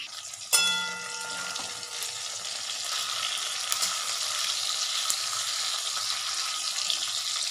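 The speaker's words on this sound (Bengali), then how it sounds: "এই দেখো ট্যাংরা মাছটাকে ভাজতে বসিয়ে দিয়েছি কিছুটা" Tangra fish sizzles steadily in a hot pan, a loud bright frying hiss that starts abruptly and carries on evenly to the end with no voices.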